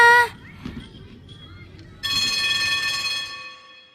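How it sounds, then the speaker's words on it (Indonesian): A school bell rings loud and close with a bright, sustained metallic tone that starts suddenly and fades over about two seconds. A shorter ring is heard at the very start. "Bel pun berbunyi."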